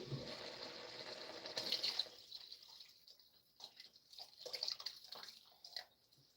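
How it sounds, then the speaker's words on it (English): Broth pouring into a pot of pheasant soup, a soft splashing stream for about two seconds followed by faint drips and small liquid sounds, quiet and close. "Put in some of the broth now."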